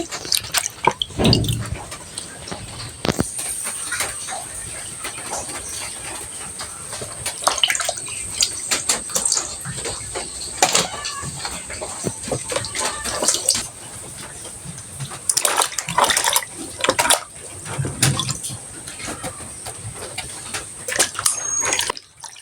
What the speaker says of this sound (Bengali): কাটার আগে হচ্ছে আমি একটু ধুয়ে নিচ্ছি উপর দিক থেকে